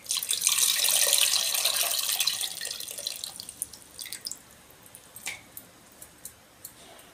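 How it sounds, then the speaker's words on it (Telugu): Water pours from a vessel into a pot of sambar with tamarind, a loud splashing rush for about four seconds that tapers into scattered drips and small liquid plops. "కొంచెం వాటర్ వేసుకుందాం."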